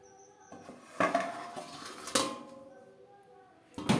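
Lid set on a pan of fish curry with potatoes after the gas flame is turned off, giving a few distinct metallic clanks and clatters of cookware, fairly close and moderately loud.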